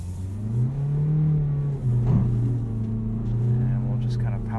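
A 2018 Mazda CX-3 powers out of a corner on a winter drive, its engine note climbing in a steady, rising hum heard from inside the cabin.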